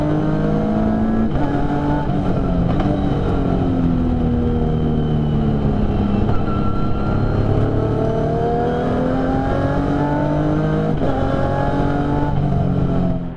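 Engines of a GC10 V6 BMW race car and the surrounding pack roar loudly and continuously from inside the cockpit at a rolling start at Zolder, revs climbing and shifting in repeated sweeps.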